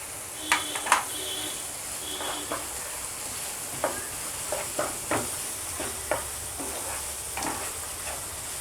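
Spatula scraping and stirring mango rice with turmeric in a pan, a series of soft, intermittent scrapes and taps over a faint steady sizzle, close by with no talking.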